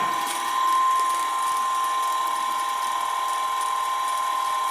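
A DC shunt motor runs steadily in a lab speed-control setup, giving a constant high-pitched electrical whine with a faint mechanical buzz. It is close and even throughout, with no talking.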